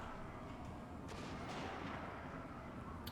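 Brimstone guns fire in a Warhammer fantasy battle game, a dense, muffled barrage of booming shots rolling together with a sharper crack near the middle, fairly faint and without speech.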